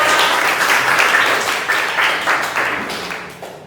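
Classroom applause from a group of students, steady dense clapping that fills the whole stretch and tapers slightly toward the end.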